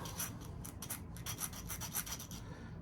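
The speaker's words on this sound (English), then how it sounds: "we're going to take the part that we got to fix and we got to start filing away" A hand file rasping burrs off a metal part during screw repair, close repeated back-and-forth strokes at a steady rhythm with no talking.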